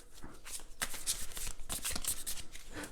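Tarot cards shuffled by hand in a series of crisp riffling and flicking bursts, steady and close throughout, with no voices.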